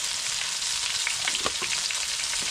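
A parshe fish curry with ridge gourd and turmeric powder sizzles and fries in a pan as it is stirred, giving a steady close crackle with a few soft scraping stirs.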